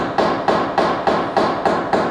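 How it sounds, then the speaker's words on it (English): Sharp hammer blows tap down a dented body line and crease on a car panel with paint damage, about seven evenly spaced metallic knocks, close and loud, with no talking. "by directing the hammer blow this direction and taking any kink out of that"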